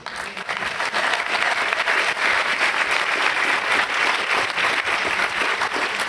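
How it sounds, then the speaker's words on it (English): Audience applause at a spiritual teaching event in France, a dense, steady roar of many hands clapping that rises quickly and holds loud and even for several seconds, with no talking. "then also you can applaud from America, Kendall, and Australia, Tanya, and in Paris, Laura"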